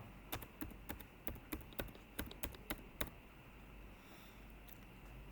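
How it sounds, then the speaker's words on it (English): Quick, uneven clicks of typing on a computer keyboard, close and clear against a quiet background hum, ending after a few seconds. "type her phone number"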